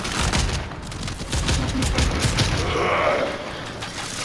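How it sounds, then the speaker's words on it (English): Shotgun fire in the video game Warframe, a dense, continuous barrage of booming blasts that stays loud and sustained throughout, with no talking over it. "This is the gun that I'm using. Shotgun bore. It is a shotgun."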